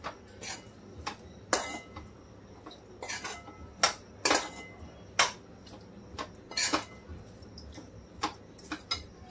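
A spoon scrapes and knocks against a bowl while a chicken samosa mince filling is mixed with pepper and cumin powder, giving irregular close metallic clinks and taps over a quiet background.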